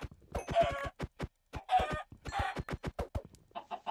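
Minecraft chickens clucking while a player chases them down for XP: repeated close, moderately loud clucking bursts with quick tapping clicks in between, fading to softer clucks at the end.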